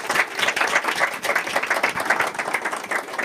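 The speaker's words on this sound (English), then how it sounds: "So let's give a round of applause." Audience applause at a live-streamed calming-music concert: steady, dense clapping from a crowd close by, sustained throughout without talking.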